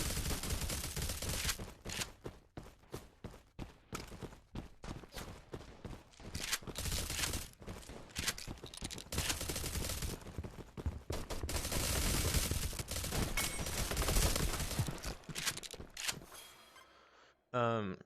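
Rapid bursts of shotgun fire in an online video game battle rattle almost continuously, loud and dense, with brief gaps between volleys before stopping near the end.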